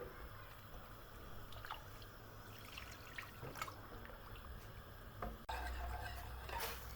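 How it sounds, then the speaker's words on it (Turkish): Water poured slowly and gradually into a pot of milky eggplant soup, a soft continuous trickle with faint drips, quiet and steady throughout. "Yavaş yavaş kademe kademe suyumuzu da yediriyoruz"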